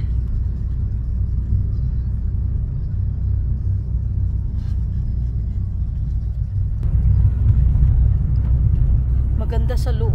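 Newly bought car driving on the road toward Leeuwarden, a steady low cabin rumble of engine and tires heard from inside, with brief voices near the end.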